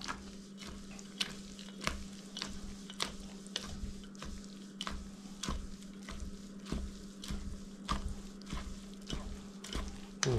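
Wet, sticky stirring as rice is mixed with cheese sauce, chicken and broccoli, soft repeated squishes and scrapes with a faint steady sizzle underneath, fairly quiet and close.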